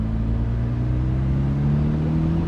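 Lamborghini Murcielago LP640 Roadster with its engine revving in traffic, a steady deep rumble whose pitch climbs slightly, heard close and continuous without talk.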